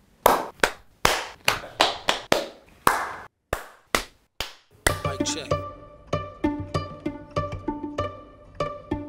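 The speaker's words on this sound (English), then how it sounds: "just get a little sound clap again." Sharp single hand claps for sound sync on a documentary shoot ring out one after another in a rough rhythm, loud and close, followed midway by a bright musical passage with its own percussive hits.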